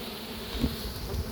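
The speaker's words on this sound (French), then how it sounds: "Il y a pas mal d'abeilles quand même." Honeybees swarming around an open cavity during a swarm removal, a steady close buzzing drone of many bees filling the space with no voices.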